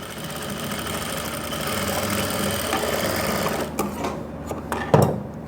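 An electric sewing machine stitching pants fabric at a tailoring class runs in a steady loud whirring rattle, then stops, followed by a few soft handling clicks and taps.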